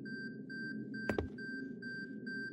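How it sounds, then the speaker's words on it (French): A camera in Fortnite beeps steadily at an even pace, about every quarter second, with a brief clatter midway and a low hum underneath. "L'appareil photo fait bip bip."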